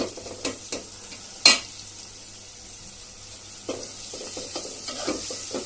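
Dal being tempered with garlic in hot oil: a loud sizzle bursts out as the tempering hits, followed by softer frying hiss and a few stirring clatters, with no talking.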